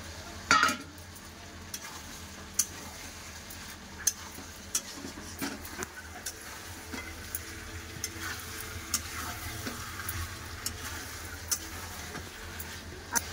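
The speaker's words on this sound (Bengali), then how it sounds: "আলু দিয়ে ভালো করে একটু কষে নেবো 2-3 মিনিট" Fried potatoes being stirred into chicken kosha in a pan, a low steady sizzle with intermittent clicks and scrapes of a spatula over about thirteen seconds, with no speech.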